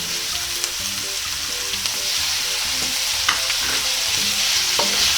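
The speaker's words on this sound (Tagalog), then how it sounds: "Ngayon ay pwede na po nating ilagay itong ating kamatis." Tomatoes added to a hot pan while cooking linarang, a sour Cebuano fish soup, with a loud continuous sizzle and frying hiss plus stirring scrapes, close up with no talk.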